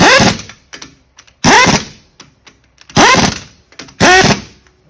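Impact gun tightening lug nuts on a heavy car or truck tire, heard as four loud, close bursts of rattling hammering separated by short pauses.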